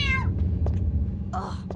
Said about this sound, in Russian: Что ты там мяукаешь?